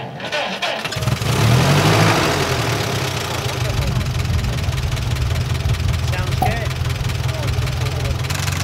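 A Ferguson TEA20 tractor engine cranks and catches, then settles into a steady, loud idle close by, with a brief spoken remark partway through.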